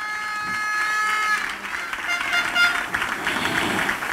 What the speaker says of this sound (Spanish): El aplauso de todo corazón para la Comisión de Fiestas